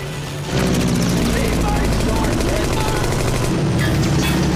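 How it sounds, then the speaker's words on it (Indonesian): A sudden attack by German fighter planes in a World War II scene: a dense, loud roar of aircraft with rapid gunfire bursts bursts in abruptly and continues without letup. "Nggak lama mereka juga dikagetkan dengan serangan dadakan pesawat tempur Jerman."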